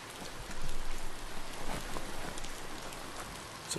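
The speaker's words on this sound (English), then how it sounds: "So it started raining." Rain falling in the video game Biomutant, a dense steady hiss of drops on surfaces, even and continuous throughout with no talking.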